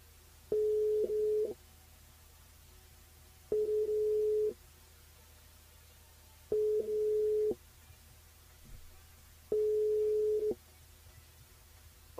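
A telephone call rings out on the line for a phone-in game on a live radio show, with four evenly spaced steady ringback tones separated by quiet gaps and no talking.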